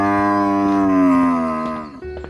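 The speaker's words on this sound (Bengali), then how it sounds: "কিছুক্ষণ পর ভোলা ষাঁড় গিয়ে পৌঁছায় এক বাড়ির সামনে।" A bull lets out one long, loud, sustained moo with a slightly falling pitch, close and clear, alone with no talk over it.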